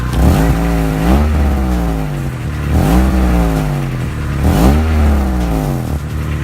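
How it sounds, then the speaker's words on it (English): Honda Accord CB7 sedan with a single-tip exhaust revs hard three times in a regular rhythm, each rise and fall loud and close, with no voices. "Show you what the exhaust sounds like on this sedan."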